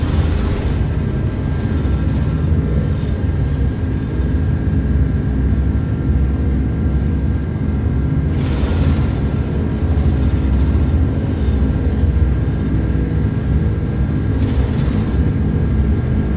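Airbus A330 jet engines roar steadily at takeoff thrust, a loud continuous broadband rumble heard from inside the aircraft with no voices over it.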